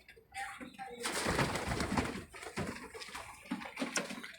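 Pigeons in a loft cooing and stirring close by, with soft wing flutters and scuffling through the short stretch; a voice may be faintly present in the background.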